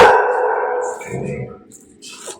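A dog barks a few times close by, with a person's voice and some household noise mixed in.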